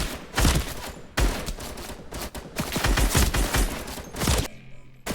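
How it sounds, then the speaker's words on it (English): Enemies firing back in a Fortnite UEFN game, producing dense, loud volleys of rapid gunshots in several bursts with brief gaps, ending in a short quiet tail. "If I start shooting at them, are they gonna start shooting back?"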